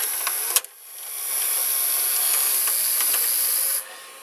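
The mechanism of a Magnavox VR8405SL01 top-loading VCR, a 30-year-old machine, runs in play mode with its motor and belt turning. A click starts it, then a steady, close whirring hiss holds for about three seconds before cutting off.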